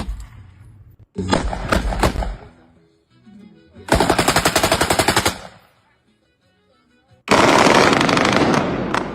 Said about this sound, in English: if it was a straight full auto, those are already illegal. Just driving down the road, popping rounds off.